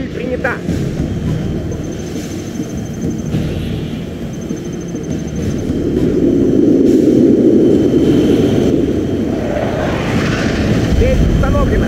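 Aircraft engines drone through an air strike in the video game C&C Generals, a steady, loud propeller-like roar that swells midway, with voices talking over it.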